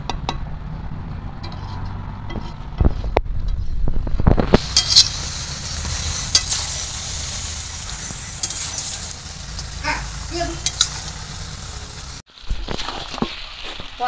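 Chicken with spices sautéed in oil sizzles in a pan under scattered utensil clinks and scraping stirs, loud and close, with a short drop-out near the end.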